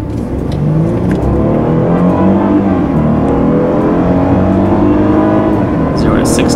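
A 2015 Hyundai Genesis 3.8 V6 accelerates hard, its engine note loud and continuous, rising steadily through the revs under a steady cabin drone.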